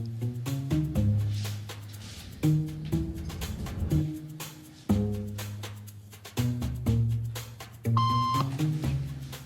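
A brief electronic beep signal from a social conformity experiment sounds once near the end, amid repeated rhythmic low thumps and tonal music-like hits that dominate the scene.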